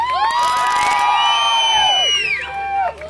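An audience at a band performance cheers and whoops, with loud high shouts and sustained crowd noise filling the space throughout.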